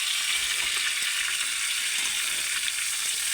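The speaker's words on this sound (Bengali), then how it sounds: "এরকম আর একবার ভেজে নেবো ভালো করে" Tengra fish frying in oil in a pan, a dense, even hiss of sizzling that holds at steady volume throughout, heard close with no voices.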